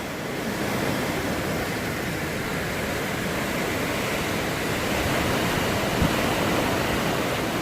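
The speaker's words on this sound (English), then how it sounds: "We're witnessing Hurricane Irma with us." Hurricane Irma in 2017: a dense, unbroken roar of wind and driving rain, loud and steady throughout with no voices.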